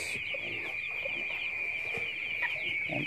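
Broiler chickens about two weeks old on a farm cluck and peep steadily as a flock, with a constant high-pitched electrical whine running through the whole scene.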